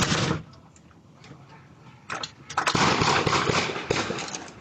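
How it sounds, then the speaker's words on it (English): A rapid burst of gunfire crackles in quick succession, followed by sustained loud shots and echoes at some distance. "Part of the gunfire."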